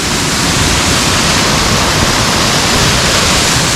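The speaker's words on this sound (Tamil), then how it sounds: "இது ஒன் ஆஃப் த சின்ன ஃபால்ஸ் தப்பால்பாவில் இருக்குது." Cascada Menor, a small waterfall in Tapalpa, Mexico, pours in a dense, loud, unbroken rush of broadband water noise, close and steady throughout with no voices.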